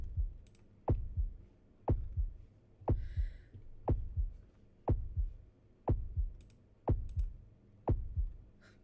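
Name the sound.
heartbeat sound effect in Process of Elimination video game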